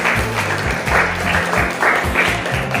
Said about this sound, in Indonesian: Tepuk tangan untuk paslon 1.